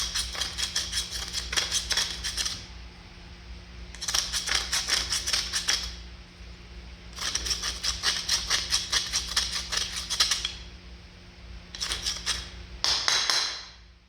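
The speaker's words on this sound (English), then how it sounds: "Using a screwdriver on it works pretty good. Getting that loose stuff off." A screwdriver scrapes loose rust and scale off the body mounts of a 1948 Chevy truck, giving bursts of rapid, gritty scratching strokes in several spells separated by short pauses, close and fairly loud over a steady low hum.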